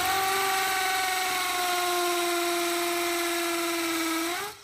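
A power drill with a 10mm bit bores through cement into granite rock at a stone house renovation in Portugal. It gives a steady, loud, close whine with no talking and stops abruptly at the end.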